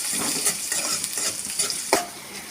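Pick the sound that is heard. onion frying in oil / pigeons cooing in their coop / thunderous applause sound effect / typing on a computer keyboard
onion frying in oil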